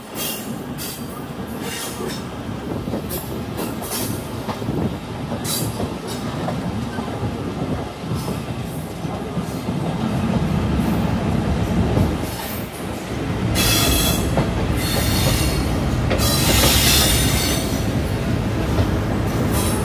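A Bhanga commuter train pulls out of Mawa station onto the main line, its continuous loud rumble of wheels on rails rising partway through, with bright squealing and rattling bursts near the end.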